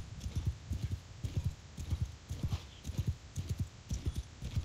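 Cavalry horses galloping across a battlefield in Mount and Blade 2: Bannerlord, a steady rolling drum of heavy hoofbeats in regular clusters, continuous and fairly loud with no speech over it.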